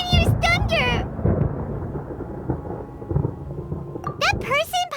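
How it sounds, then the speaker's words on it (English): Thunder rumbles through a stormy scene in the Genshin Impact video game, a low continuous roll lasting the whole stretch beneath brief bursts of voiced character dialogue at the start and end. "Paimon hears thunder!"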